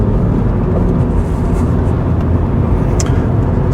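Steady, loud road and engine roar from inside a car driven briskly toward a corner in fourth gear at around 45-50 mph, a continuous rumble with no talking.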